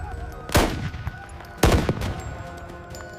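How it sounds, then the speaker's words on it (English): Battle-scene gunfire from the 1880 fight at Kandahar, with two loud, sharp volleys about a second apart. Each volley cracks and then rolls away, and a softer rattle of shots carries on through the background. No one speaks. "Go! Fire! Keep firing!"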